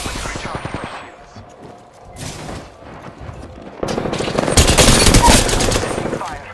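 Rapid bursts of automatic gunfire rattle in Apex Legends, with a short volley early on and a louder, dense stretch of shots near the end, mixed with voices.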